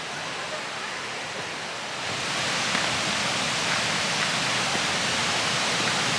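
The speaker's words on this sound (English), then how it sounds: "Henrhyd Waterfall. It is the highest waterfall in South Wales, 90 feet" Henrhyd Waterfall in South Wales, a 90-foot drop, gives a steady broadband roar of falling water that swells louder partway through, constant and hissing with no talk.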